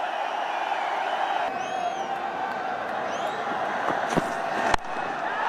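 A large cricket stadium crowd roars in a sustained, distant wash of cheering, with whistles and whoops rising above it and a sharp thump near the end.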